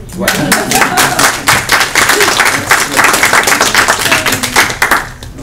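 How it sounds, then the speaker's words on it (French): A lecture audience at a talk on analysing the ornaments of Marc Michel R. gives loud, close applause, individual claps clearly audible in a brisk rhythm throughout, with a faint voice under it. "En fait, de vous applaudir."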